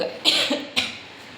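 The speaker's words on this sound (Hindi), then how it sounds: "सॉरी यार, खांसी हो रही है" Two close coughs from a person with a cough, a harsh double cough followed by a single sharper one, then quiet.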